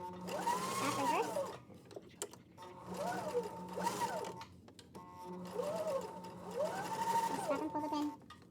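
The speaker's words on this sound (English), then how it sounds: "Needle down. Presser foot up. Presser foot down." Sewing machine stitching a square pillow, running in several loud whirring bursts with short pauses between, close up, while a voice speaks over it.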